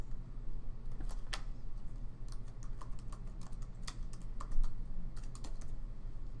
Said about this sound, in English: Type critical thinking in the keyword box.